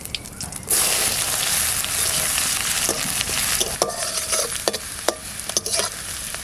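Leaves, dried red chili, cumin and onion fry in a pan during riverside home cooking. A loud hiss starts suddenly and holds steady, broken by scattered spattering pops and the clicks of stirring, close up and without talk.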